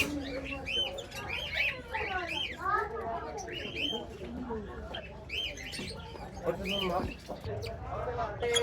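Pet conure parrots, a pineapple conure female and green-cheeked conures, chirping and squawking repeatedly nearby while someone talks over them.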